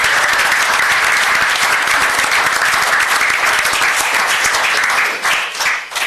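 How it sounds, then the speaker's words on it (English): Loud, close applause fills a meeting room in Scarborough, Maine as an audience claps for Anne Murray, staying thick and continuous before thinning and tapering in the final second. "you can clap for that right now."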